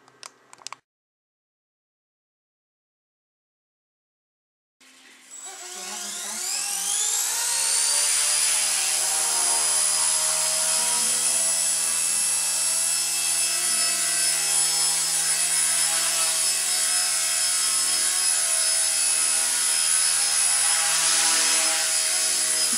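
An MCPX brushless RC 3D helicopter starts with a few brief clicks, then after a silent pause its rotor spools up with a rising whine that settles into a loud, steady, high-pitched buzz.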